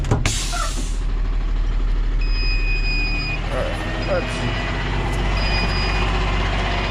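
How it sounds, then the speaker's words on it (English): A light-duty tow truck rolls backward after its brake is released, with a loud hiss of air at the start followed by a steady heavy engine rumble and faint whines, close by, with someone speaking over it. "I'll back this thing up. I'll take the brake off."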